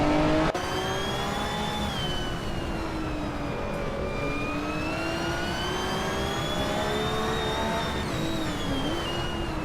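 Race cars, including BMWs and Ferraris, speeding around a tight street circuit, with engines revving and shifting pitch continuously and loudly and no voices.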